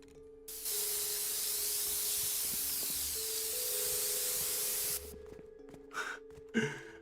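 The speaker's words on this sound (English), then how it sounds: "somebody just spray painting around here" Spray can painting in the video game Rust: one long, loud, continuous aerosol hiss lasting about four seconds, followed by a few faint short noises and a brief breath.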